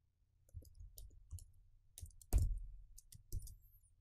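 Soft, sparse keystrokes on a computer keyboard click up close in a quiet room, with one sharper tap partway through and no voices.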